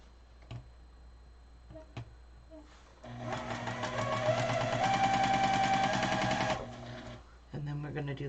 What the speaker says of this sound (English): We'll sew these two together.